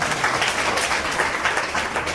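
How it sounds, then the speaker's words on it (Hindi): A church congregation applauds loudly at a Christian ministry service, a dense, steady wash of many hands clapping with no talk over it. "ताली बजाओ बहन के लिए जोर से।"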